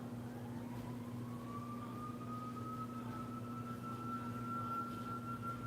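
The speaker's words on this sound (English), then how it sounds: "Y'all hear the sirens outside?" Outdoors, a faint, distant emergency siren climbs to a steady high wail, sounding over a low, constant traffic and engine hum.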